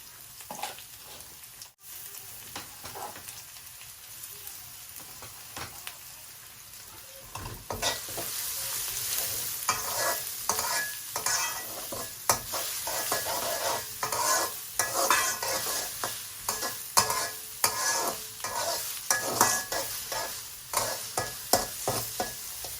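Onions sizzle in hot oil in a kadai while a spoon stirs them with steady scraping strokes, the frying growing louder and denser partway through and continuing close and unbroken, with no talk.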